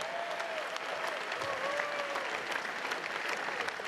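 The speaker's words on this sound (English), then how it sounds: "Let's have a round of applause for both fighters." A boxing crowd applauds both fighters at the end of a 12-round bout between Donnie Nietes and Moises Fuentes. The clapping is steady and dense for the whole stretch, with faint voices and whistles mixed in.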